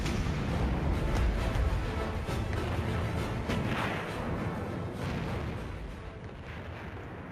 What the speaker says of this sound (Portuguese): Este filme alemão mostra os enormes canhões de 381 milímetros do Bismarck disparando contra o Hood de uma distância de cerca de 15 quilômetros